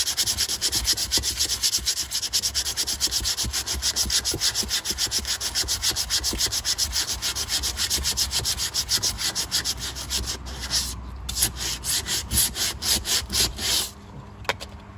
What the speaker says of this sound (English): just a little bit more sanding,